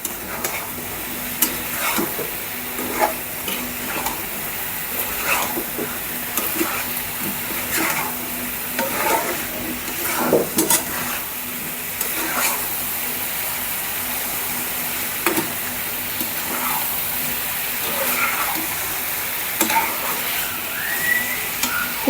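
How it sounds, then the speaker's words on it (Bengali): Chicken is stirred and fried with ground spices in a pan. Irregular spoon scrapes and clinks repeat over a steady close sizzle for about twenty seconds, with no speech. "মশলাগুলো মুরগির সঙ্গে মিশিয়ে দেব"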